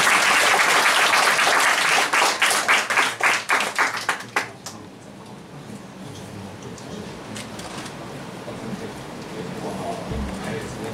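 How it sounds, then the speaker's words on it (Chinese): An audience at a discussion gathering gives loud, dense applause to welcome Chen Yun as the speaker, clapping for about four seconds before it quickly dies away into a quiet room. "大家先再次热烈掌声欢迎陈云老师"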